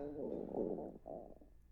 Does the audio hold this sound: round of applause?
no